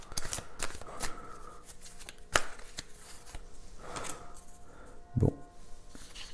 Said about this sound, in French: On va se prendre une autre carte.